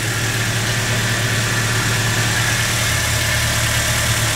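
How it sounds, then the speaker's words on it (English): A 2004 Toyota Tacoma four-cylinder engine idling with the hood up, a steady close-up mechanical hum with a low droning rumble and constant tone, no talk over it. "So there's the engine. 4 cylinders."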